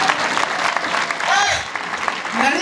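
An audience applauds an MC, dense sustained clapping with some cheering and a voice rising over it near the end.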